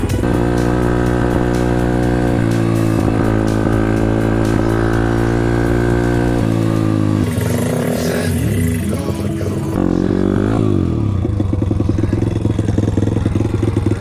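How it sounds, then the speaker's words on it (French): A YCF supermoto motorcycle roars loud and close, its engine revving hard with rising and falling pitch as it shifts through gears and accelerates during practice riding on an open spot. "Parce que la moto elle fait tellement de bruit que je crois que je les entendrai pas en fait."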